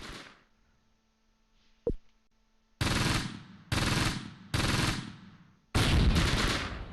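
Gunfire in the Close Combat World War II strategy game, with one sharp shot followed by four loud sustained bursts of automatic fire separated by brief pauses.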